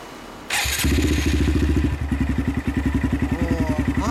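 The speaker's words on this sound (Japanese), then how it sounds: "エンジン音聞かせてもらえますか。" A 2013 Honda Grom motorcycle engine fires up with a sharp burst, revs briefly, then settles into a steady, throbbing idle close by.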